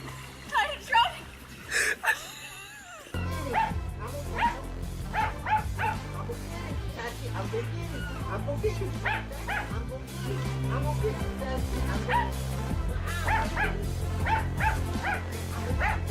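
A dog barks, yips and whimpers in short repeated bursts near a pool, close and loud, with people talking over parts of it.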